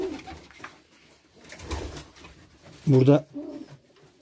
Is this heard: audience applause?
no